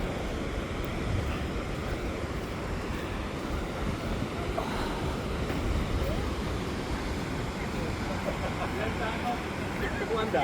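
Ocean surf breaking at Rainbow Bay beach, a steady broadband roar of waves with wind buffeting the microphone, continuous and fairly loud throughout.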